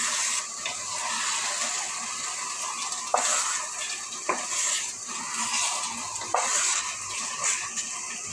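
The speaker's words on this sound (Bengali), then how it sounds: "দেখেন আমার চালগুলো ভাজা হয়ে গেছে।" Rice grains being stir-fried in a pan for chicken biryani, with steady scraping stirs and a soft sizzle throughout, punctuated by a few sharp clicks of the spoon against the pot.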